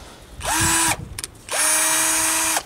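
A handheld power drill whirs in two bursts, the first about half a second long and the second just over a second, each spinning up quickly and cutting off cleanly, close and loud with no talking.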